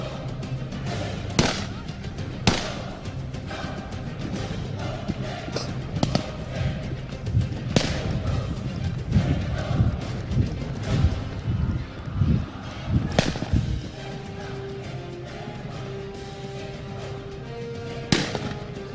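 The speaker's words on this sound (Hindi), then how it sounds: "ये पुलिस की जानिब से फायर और दूसरी जानिब मुल्जमान की जानिब से भी फायर हो रहे हैं" Gunfire traded between police and suspects, including pistol shots, in sharp irregular cracks, some loud and some distant, spread over a noisy outdoor background with voices in between.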